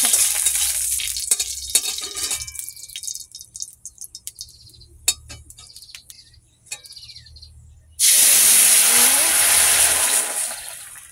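Nigella seeds in hot oil in a wok: scattered sharp pops and crackles at first, then a sudden loud, steady sizzle that holds for several seconds, close and without voices.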